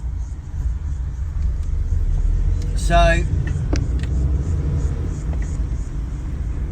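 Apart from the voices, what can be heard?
cars passing by outside an open car window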